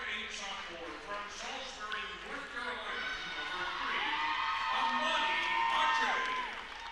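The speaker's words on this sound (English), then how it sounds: "Got a big crowd here tonight, as you can hear behind me." A large crowd fills the gym at a women's college basketball tournament semifinal, a constant murmur with cheering swelling in the background while an announcer talks over it.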